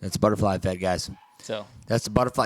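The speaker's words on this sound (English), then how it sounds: "If you guys can hear the puppies barking in the background" Puppies yip and bark in the background, faint and intermittent beneath steady close-up talking.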